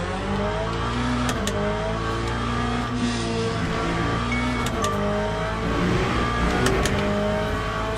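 A GT3 race car in a racing video game revs steadily with a loud, continuous engine note, shifting pitch through the gears with a few sharp clicks on top.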